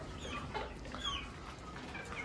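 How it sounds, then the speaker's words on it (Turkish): Chickens cluck and chatter steadily at close range inside a coop holding 38 hens and several roosters, Sussex among them, as one continuous dense flock sound. "Şu anda burada 38 tane tavuk var."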